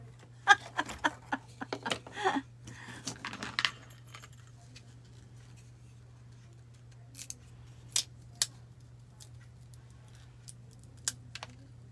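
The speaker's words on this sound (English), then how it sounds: "if I wasn't using wire cutters, it might cut even easier" Wire cutters snip thin sticks close up in a quiet room, giving a quick cluster of sharp, crisp clicks early on. A few scattered isolated snips follow after a pause, over a steady low electrical hum.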